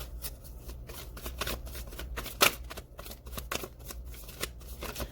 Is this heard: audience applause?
no